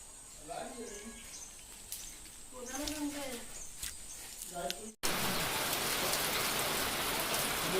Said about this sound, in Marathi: अचानक पाऊस सुद्धा आला, वरती घडघडतंय पण आणि थोडा रिमझिम पाऊस पडतोय